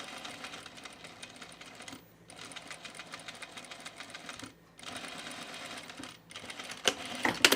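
A sewing machine back stitches a seam on a blazer with a fast, steady mechanical whir that halts briefly three times before resuming, ending with a few louder clicks.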